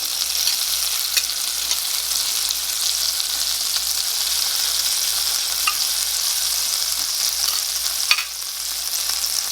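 Butter sizzles steadily in a hot pan set just under medium heat, a continuous close crackling hiss that holds evenly throughout, with a few sharper pops near the end and no talking.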